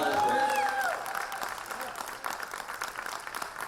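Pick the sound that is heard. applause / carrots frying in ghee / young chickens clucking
applause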